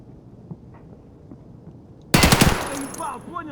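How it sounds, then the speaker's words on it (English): Gunfire in Escape from Tarkov on the Factory map cuts in suddenly after quiet ambience as a loud, rapid automatic burst, then rings out with echo. "Is that you shooting? Yes."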